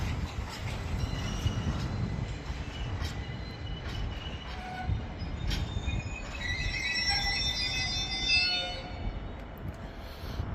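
Graffiti-covered freight train wagons roll through Peterborough station on the East Coast Main Line, a steady loud rumble of wheels on rail with squeals and metallic tones rising toward the end, close by and with no talk.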